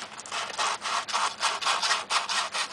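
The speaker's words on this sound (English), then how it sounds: "just basically polish the expander ball on this thing" 240 grit sandpaper is rubbed back and forth by hand over the expander ball of a used reloading die, giving a close, quiet scratchy rasping in steady strokes, roughly four per second.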